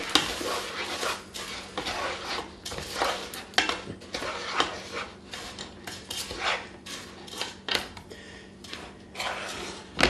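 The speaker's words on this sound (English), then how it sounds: "Then you add 2 cups of Rice Krispies, and you stir it in real good" A spoon stirs two cups of Rice Krispies into a soft, melted date mixture, giving irregular scrapes, taps and clinks against the pot, close by, with a faint steady hum underneath.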